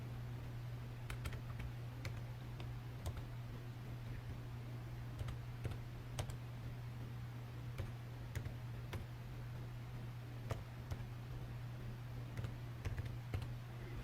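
A card number is typed on a computer keyboard: sparse, crisp keystrokes click one by one over a steady low electrical hum, with no talking.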